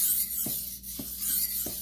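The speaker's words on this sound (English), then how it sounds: "make sure your angle is consistent the entire length of the knife when you actually try to sharpen the knife" A Shun kitchen knife being drawn over a budget whetstone to repair a chip, giving a steady gritty rasp with three soft rhythmic strokes across a short stretch, fairly close.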